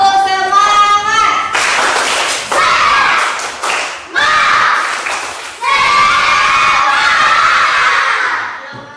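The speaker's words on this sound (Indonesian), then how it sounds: "Tepuk semangat." Classroom of children doing a rhythmic spirit clap, bursts of clapping and thumps alternating with loud shouted chanting voices in several short phrases, nearby and energetic.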